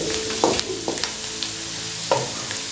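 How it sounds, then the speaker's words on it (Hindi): Red chili, cumin and salt frying in a pan, a steady close sizzle broken by a few scraping stirs. "मैं इसमें ज़ीरा डाल के थोड़ा सा भून लूँगा उसे"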